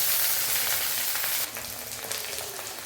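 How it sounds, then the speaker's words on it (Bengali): Onions sizzle loudly in hot oil in a kadai tempered with nigella seeds and dried red chilli, a dense steady hiss that thins slightly halfway through, with no voices. "পেঁয়াজটা একটু ভাজা ভাজা হবে।"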